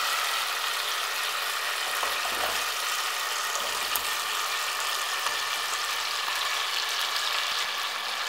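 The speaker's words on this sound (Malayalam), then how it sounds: "ഇനി ഇതിലേക്ക് അരിഞ്ഞു വെച്ചിരിക്കുന്ന സ്റ്റാർ ഫ്രൂട്ട് ചേർക്കാം" Chopped star fruit simmers in a boiling pickle mixture, making a continuous low bubbling sizzle with a few soft stirring clicks, moderately close and with no one speaking.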